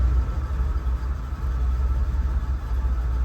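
A 1978 Buick Electra's engine idles roughly and unevenly, a steady close low rumble that hesitates and bucks slightly, with no voices over it.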